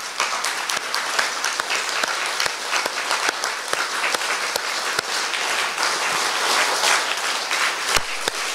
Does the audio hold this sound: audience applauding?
yes